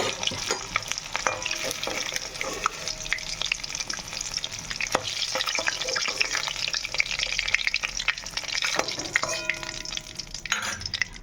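Eggs fry in hot mustard oil seasoned with salt and turmeric, giving a continuous close sizzle with scraping stirs and occasional sharper crackles throughout, no voices.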